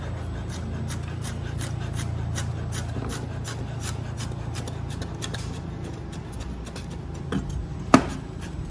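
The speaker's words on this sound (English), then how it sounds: "And cut them into strips." A knife slicing tofu into strips on a cutting board, with quick, regular soft chops over a low steady hum and one sharper knock near the end, with no voices.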